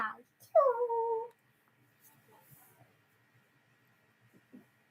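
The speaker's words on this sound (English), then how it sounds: "You're a very protective dog." A dog gives a short high whimper and then a longer whining yelp, both close, followed by near silence with faint scattered rustles and soft noises.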